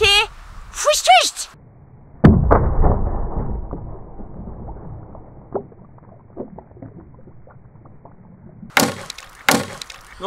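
A sword slicing through and bursting an object: a sharp hard crack followed by a spattering, scattering tail, with excited voices talking before and after.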